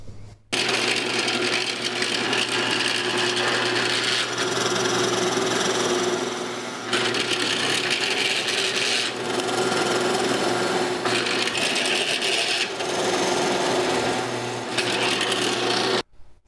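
A power drill runs loudly in long continuous bursts, whining steadily through wood with brief pauses between passes, drilling and counterboring holes for number 8 screws.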